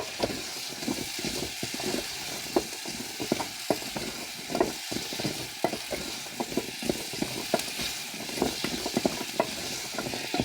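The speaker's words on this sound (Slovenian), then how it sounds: "Na vsake toliko premešamo, da se sladkor ali jabolka ne primejo dna posode" Apples and sugar are stirred in a pot, a steady soft scraping and bubbling sizzle with small spoon knocks repeating throughout, close and moderately loud, no voices.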